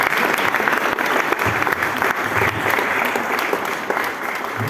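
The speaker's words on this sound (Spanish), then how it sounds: "Aplausos, aplausos." An audience at a public gathering on justice breaks into dense, sustained applause, a loud continuous wash of many hands clapping with no pauses.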